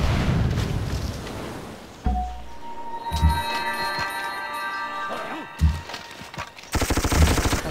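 Bursts of rapid automatic machine-gun fire and booms in a Civilization V game soundscape, with a loud burst near the start, scattered shots midway, and heavy firing at the end.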